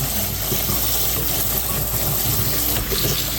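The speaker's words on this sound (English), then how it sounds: "So now we're just going to give this a quick little rinse like that." Steady running water pours over salted, shredded zucchini being rinsed for relish, a continuous close rush of tap water with no pauses for the whole stretch.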